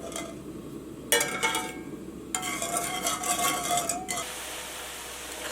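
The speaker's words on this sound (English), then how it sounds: "And keep stirring till it comes to boil." Spoon stirring a strawberry pudding mixture of sugar and agar in a pan over medium-high heat, giving bursts of scraping and clinking against the pot with brief pauses between strokes, close and moderately loud.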